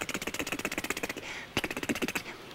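Harmonica played very fast with T and K tonguing, producing rapid, evenly spaced staccato bursts in two runs separated by a brief pause, close and alone.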